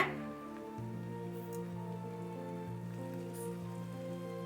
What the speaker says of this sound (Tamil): தண்ணி ஒரு சொம்பு ஊற்றிருக்கேன்